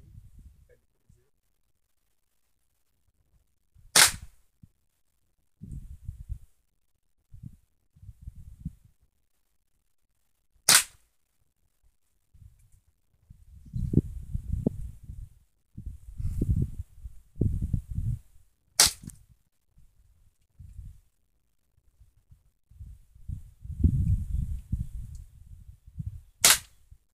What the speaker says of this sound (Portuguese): Esse estilingue aqui tem munição no cabo. Estou treinando com ele agora aqui, ó.